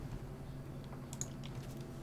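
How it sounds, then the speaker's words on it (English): Light typing on a computer keyboard, a quiet run of scattered key clicks that thickens briefly midway, with no voices. "I'm just typing in a dot, that way I don't get disconnected."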